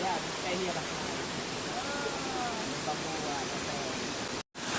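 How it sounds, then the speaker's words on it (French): Steady broadband roar of a waterfall in Virachey National Park, continuous and fairly close, filling the clip with dense rushing noise; faint voices sit beneath it and a brief dropout cuts in near the end. "Arrivé à la cascade"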